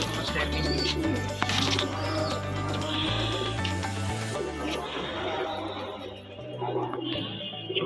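Pigeons cooing inside a crowded Kolkata pigeon loft, low droning coos layered and overlapping continuously at close range, with scattered bird calls and faint background voices.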